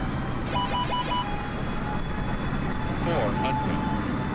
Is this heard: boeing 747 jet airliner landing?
yes